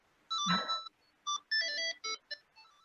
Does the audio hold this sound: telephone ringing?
yes